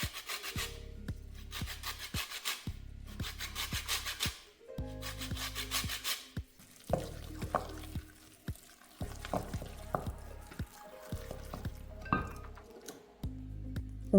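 Lemon zest grated into a bowl of potato doughnut dough, heard as a series of rhythmic, close scraping strokes in short bursts with brief pauses between them; nobody speaks.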